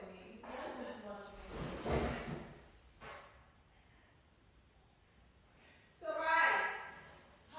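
A home door alarm sounds a continuous high-pitched electronic tone that holds steady for several seconds, while people talk over it nearby.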